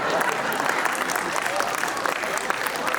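Audience at a Hindi poetry recital claps in a dense, steady wash of applause with crowd murmur underneath, continuous and fairly loud throughout.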